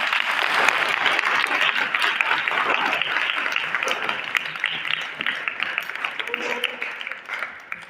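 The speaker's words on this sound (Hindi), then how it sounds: "इन तमाम गेस्टों के लिए जोरदार ताली बजाएं" Audience applause for guests at a church talk show gathering, a dense, steady wash of many hands clapping together for the whole stretch, tapering slightly at the end.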